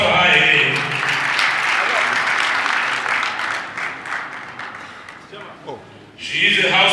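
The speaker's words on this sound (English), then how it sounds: "A round of applause for her again." An audience at a political parties and civil society roundtable on the 2023 elections claps in loud, sustained applause that gradually thins out, then swells again briefly at the end.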